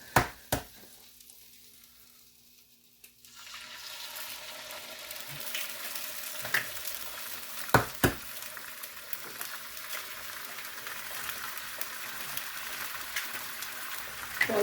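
Eggs sizzling in a hot pan for a home-cooked supper: steady loud frying crackle begins after a brief quiet start, with a few sharp clinks and pops along the way.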